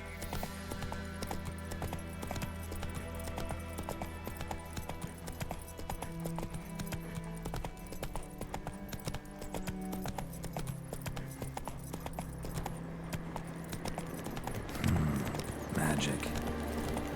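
Hooves of Roach, the horse in The Witcher 3, clip-clop steadily through most of the stretch beneath game music, with a brief rise in activity near the end and talk faintly present.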